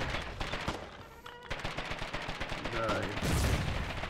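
Gunfire and artillery shelling of an enemy bunker position in the trench-warfare video game Foxhole, rapid repeated shots and booms forming a loud, fairly steady barrage that swells toward the end.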